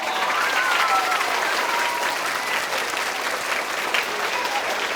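Students at a school applaud together during a visit from a minister, making a steady, full round of clapping that carries on for the whole stretch, with no pause.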